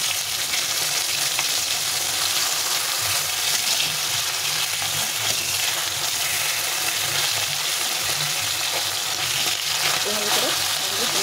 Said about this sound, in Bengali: বাকি মাছগুলো উল্টে পাল্টে ভেজে নিতে হবে।